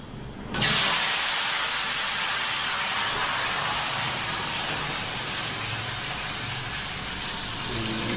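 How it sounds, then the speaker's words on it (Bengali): Raw potatoes dropped into well-heated oil in a kadai-style wok burst into a loud, steady sizzle that starts abruptly and then holds as a dense, close hiss with no talking. "কড়াটি চাপিয়ে তেল দিয়ে দিয়েছি, তেলটি ভালো করে তেঁতে গেছে। এবার এই আলুগুলো দিয়ে দেবো।"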